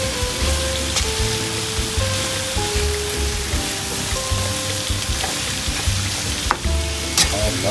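Vegetables sizzle and fry steadily in butter sauce in a pan, a continuous crackling hiss with faint bubbling, loud and close throughout with no talking.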